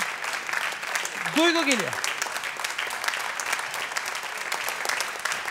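Studio audience on a family game show applauds steadily throughout, dense clapping continuing while a voice briefly announces the next contestant over it.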